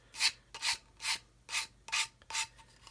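A sanding stick is rubbed gently over a plastic model part in six slow, evenly spaced strokes, each a soft, close rasp with quiet pauses between, and no talking.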